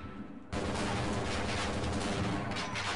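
Sustained automatic gunfire aimed at a turret in the video game Half-Life, a loud dense burst that erupts after a short quieter lead-in and keeps going without a break.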